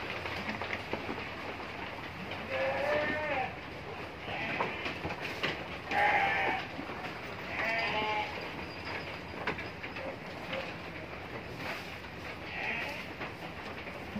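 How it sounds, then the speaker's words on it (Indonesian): Sacrificial sheep on a farm bleat several times while being weighed, the calls medium-distant and spread across a noisy background of clattering and rumble. "ini ada salah satu domba yang pada saat hari ini ditimbang di angka bobot 20 kilo"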